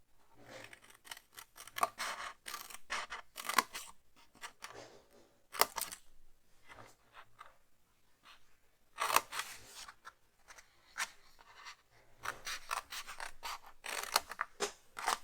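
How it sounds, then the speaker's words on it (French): Scissors snip through scrapbooking paper for a Christmas treat box, giving close, crisp bursts of cutting in irregular clusters with short pauses between runs of snips. "je vais couper ici, ici, puis là"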